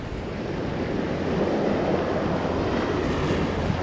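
Ocean water at Depoe Bay curls roughly around a rock, making a continuous, fairly loud broadband wash of surf with wind buffeting the microphone and no distinct crashes.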